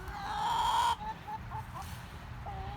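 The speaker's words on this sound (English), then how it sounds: "There's a chicken fight or something going on over there." Chickens in a backyard garden squawk and cluck in a sudden scuffle, one loud drawn-out squawk followed by several shorter agitated clucks nearby.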